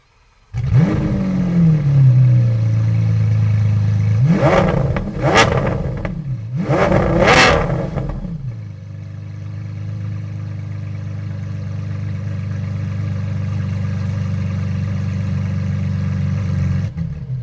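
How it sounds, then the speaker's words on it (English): A straight-piped car engine in a Monaco car collection cranks and fires, settles, then gives two sharp, loud revs before dropping back to a steady, rumbling idle. The engine is close and heard alone. "It's straight piped. Straight fucking piped, right? So I think we should have a listen."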